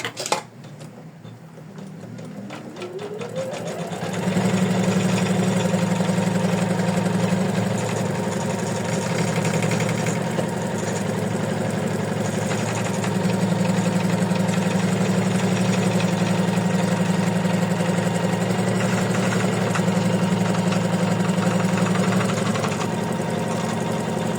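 An embroidery machine stitches a placement line on an in-the-hoop heart ornament, a steady close mechanical whir with rapid needle chatter that starts up after a few seconds and runs continuously without talk.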